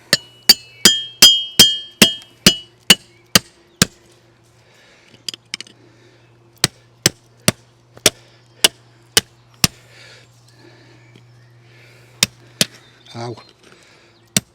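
Hammer blows on windbreak pegs while a Kampa Windbreak Pro is set up outdoors: a steady run of sharp, evenly spaced strikes, a short pause, then slower single knocks, close and loud over a low hum.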